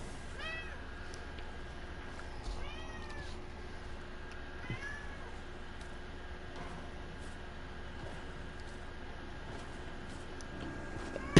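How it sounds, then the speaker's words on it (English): An orange tabby cat meows repeatedly indoors, several rising and falling cries spread over the span against a faint steady background hum. "You are one persistent cat!"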